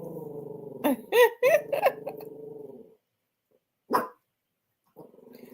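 Several dogs indoors, all turned toward one wall, break into sharp overlapping barks in a quick cluster, then fall quiet until one more loud bark; a voice murmurs faintly at the end.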